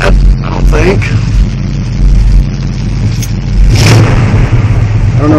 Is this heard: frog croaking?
no